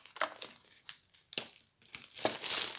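Paper and plastic packaging of a Paper Pumpkin card kit crinkles and tears open in several quick close-up bursts, with a louder rustle at the end.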